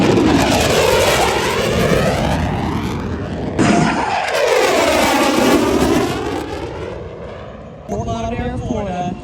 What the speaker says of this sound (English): From the right, the Super Hornet photo pass.